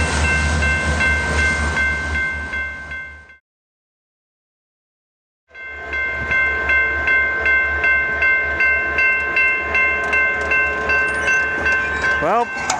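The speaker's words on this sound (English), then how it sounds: "An SD70M and an SD70 Ace with the Union Pacific's 2022 livery bring" A Union Pacific SD70M and SD70 Ace locomotive pair pass close by with a loud, steady rumble and rhythmic clatter. The sound cuts out briefly partway through, then resumes, with wheel squeal near the end.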